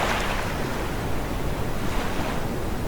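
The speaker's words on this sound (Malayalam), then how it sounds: "തിരമാല" Sea waves surge and break on a shore, a steady, loud wash of surf with wind rumbling against the microphone, no voices.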